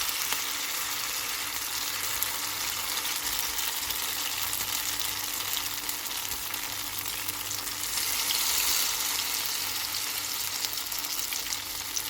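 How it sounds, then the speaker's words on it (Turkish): Zucchini fritters fry in oil in a pan with a steady, close, crackling sizzle that holds evenly throughout, alone with no voices. "Bu şekilde bütün köftelerimizi yavaş yavaş kızartalım."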